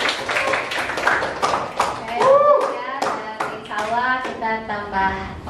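A small classroom group claps in loose bursts, hands slapping unevenly near the listener, while voices talk over and between the claps.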